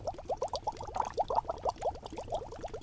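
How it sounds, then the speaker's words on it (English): Liquid bubbles and gurgles quickly in a potion cauldron as rose thorns are poured in from a jar, a rapid run of small soft pops and plops heard close and quiet. "He gently shook the jar of rose thorns and poured them into the cauldron"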